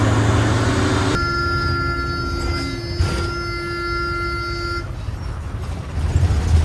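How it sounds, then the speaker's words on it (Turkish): A steady horn-like tone blares for several seconds over busy street rumble, cutting off abruptly, with traffic noise continuing underneath. "Hiçbir sebep yokken kornaya basıyorlar."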